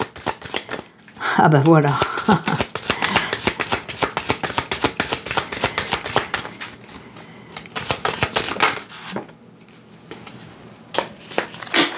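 Lenormand cards are shuffled and drawn in a dense run of rapid, crisp riffling and flicking close up, fading into sparser card snaps while someone speaks French over the handling.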